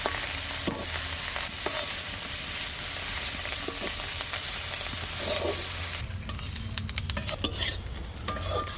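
Continuous loud sizzle of shrimp frying in hot oil, with occasional utensil scrapes and clinks; the sizzling eases slightly near the end.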